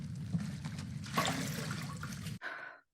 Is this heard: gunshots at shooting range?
no